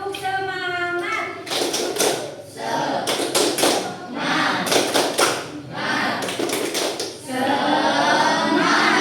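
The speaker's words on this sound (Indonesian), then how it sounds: "Sekarang kita akan melakukan tepuk semangat." A school class performs a rhythmic clapping routine, tepuk semangat, with loud group claps in patterned bursts alternating with chanted children's voices, the clapping and chanting trading back and forth in a steady beat.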